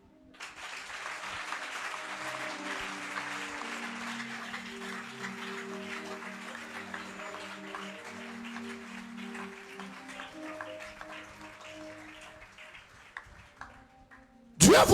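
Church congregation applauding, a sustained dense clapping that swells and holds for several seconds before tapering off, with voices over it and a loud burst at the end.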